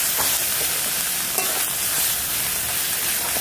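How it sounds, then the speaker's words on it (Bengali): Spices and turmeric fry in a kadai while being stirred for an egg curry, making a loud, continuous sizzle with scraping strokes of a spoon running through it. "এবার দেবো হলুদ, এবার নাড়বো। মশলাটাকে কষাতে হবে"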